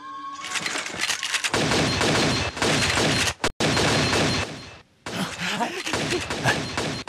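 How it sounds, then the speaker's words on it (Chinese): Dense, loud bursts of gunfire fill a kung fu movie shootout scene, with sharp, booming shots piling up almost continuously and briefly dropping out. "霍元甲，你最好出来投降，要不然我开枪了。"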